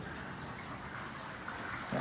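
Steady rushing and splashing of water cascading like a waterfall inside a car wash motor room, a continuous broadband wash that stays loud and even throughout with no voices.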